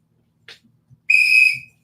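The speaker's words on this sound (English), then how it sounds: "Whistle on. I gotta put my whistle on." A coach's whistle gives one sharp, loud, steady blast lasting about half a second after a faint chirp and some quiet handling noise, with no talk.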